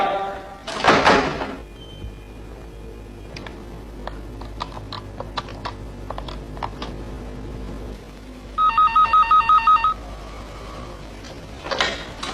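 A telephone rings in an indoor scene of a family comedy drama: a short burst of repeated electronic trills, preceded by a loud door thump and scattered clicks and knocks, with no speech.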